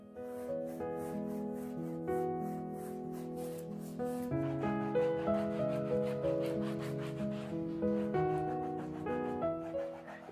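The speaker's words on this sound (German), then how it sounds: "ich gehe mit einem trockenen Tuch über die Fläche und reibe die Farbe wieder ab" A dry cloth rubs acrylic paint off a canvas with soft, repeated scrubbing strokes, quiet and close, with no talking.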